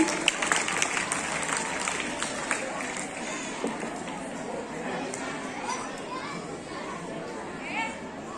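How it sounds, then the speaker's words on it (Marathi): Applause from a group of children at a school science-day quiz, a dense steady clapping that runs the whole stretch, with some chatter mixed in. "टाळ्या वाजवा यांच्यासाठी"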